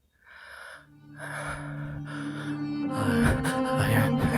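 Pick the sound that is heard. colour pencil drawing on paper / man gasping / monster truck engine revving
man gasping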